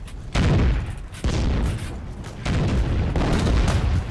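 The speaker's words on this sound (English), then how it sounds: "They're throwing grenades at me." Grenade explosions in the shooter Heroes & Generals, several heavy booming blasts at irregular intervals, loud and close, each followed by a rumbling tail, with no talking.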